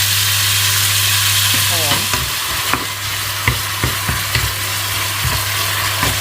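Food stir-fried in a pan for a home-cooked vegetable dish, with a steady loud sizzle under repeated sharp scrapes and clacks of a spatula against the pan.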